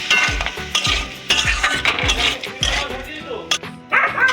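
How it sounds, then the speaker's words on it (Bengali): Ghugni spices, cumin and coriander powder with a splash of water, are mixed by hand in a pan: a close, steady run of rhythmic scraping stir strokes repeating about twice a second. "এবারে ভালো করে মিক্স করে নিতে হবে"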